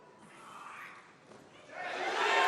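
An arena crowd at a European weightlifting championship, men's 61 kg, rising from a faint murmur into a swelling roar of cheers as a lift succeeds.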